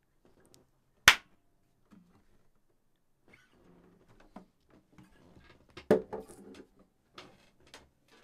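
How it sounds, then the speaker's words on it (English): A single sharp hand clap lands near the start, loud and close in an otherwise quiet room. Later comes a scatter of soft knocks and a second fainter impact. "I'm going to clap, and when you see me clap, type the word clap"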